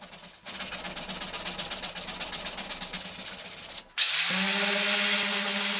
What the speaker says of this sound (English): so I had to come in and hand sand that off instead